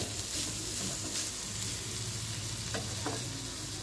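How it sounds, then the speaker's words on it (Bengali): Potatoes fry and sizzle in a pan as a spoon stirs them, a steady close hiss with a few scraping strokes and no talk. "আলুটা পুরো ভাজার উপরেই সিদ্ধটা হবে।"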